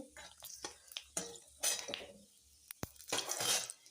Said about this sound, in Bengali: তেজপাতা দিয়ে দিলাম, এই পাঁচফোড়ন দিয়ে দিলাম, একটু নেড়ে দিচ্ছি।